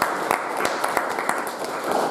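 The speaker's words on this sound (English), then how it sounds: "How about a big round of applause for them?" A live studio audience at a county magistrates debate gives a round of applause, dense steady clapping throughout with a few sharper individual claps standing out.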